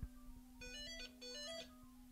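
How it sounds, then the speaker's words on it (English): A telephone rings with a bright electronic ringtone, two clear bursts of warbling tones over a steady low hum, close and moderately loud with no talking. "Oh, the phone's ringing."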